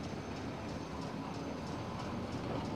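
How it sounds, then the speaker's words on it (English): A train on the line to Scunthorpe pulling away, a low steady rumble with faint repeating wheel clicks building gently, heard from inside a carriage with no talk. "Oh, at last. Train's starting to move."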